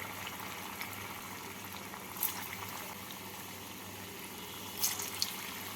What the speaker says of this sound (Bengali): তেলটা গরম হয়ে গেছে এবার এর মধ্যে পুলিগুলো দিয়ে দিচ্ছি